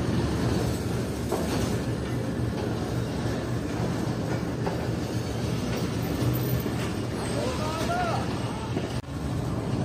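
The 42 Down Karakoram Express stands at platform one of Rohri Junction, giving a steady low rumble of the train and station noise with faint wind, and voices murmur in the background.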